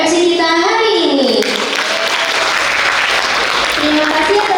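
Audience applause for the MC at an open house event, broad dense clapping that rises loud and steady, with a voice and other voices sounding over it at the start.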